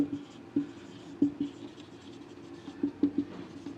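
A physics teacher writes a definition by hand during a lesson: quiet scratching pen strokes broken by light, irregular taps, with no talk.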